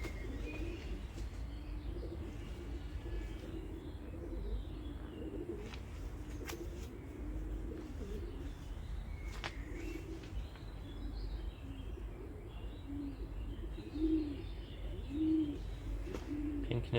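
Racing pigeons of Picasso lineage coo steadily in a loft, a low continuous murmur of overlapping calls with occasional louder coos and faint chirps throughout.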